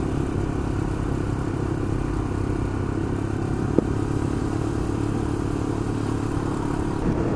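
A motorbike ridden along small random tracks, its engine a steady close drone with rushing wind noise throughout and one brief knock midway.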